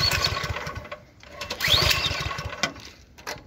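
A single-stage snowblower engine is pull-started, loud rapid chugging turnover bursts that rise, dip, then catch briefly, close up and without talk.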